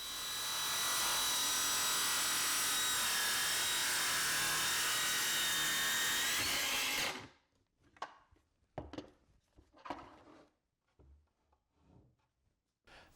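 A circular saw runs along a Milescraft TrackSawGuide track, cutting sheet material with a loud, steady whine for about seven seconds, then spins down and stops, followed by scattered knocks and handling sounds.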